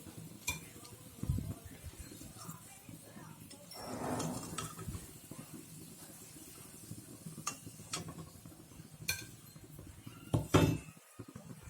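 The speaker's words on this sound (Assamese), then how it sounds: "এতিয়া মই এইকেইটা প্লেট এখনত উলিয়াই থওঁ" Fried chocolate donuts set onto a plate in a home kitchen, heard as several scattered clinks and knocks of dish and utensil with soft handling noise between them, close by and moderately loud.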